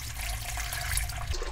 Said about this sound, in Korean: 물을 줘야지.